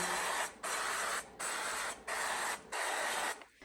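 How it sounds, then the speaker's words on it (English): Avocado oil cooking spray hisses in four steady bursts separated by brief pauses as it greases baking pans, close and fairly loud. "I always like to use avocado spray."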